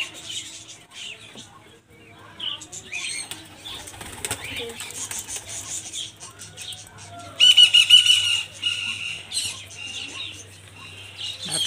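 Pigeon beating its wings while being handled at a pigeon flyer's loft: scattered soft flutters, then a louder burst of flapping near the middle, with squawks and chirps from other birds around.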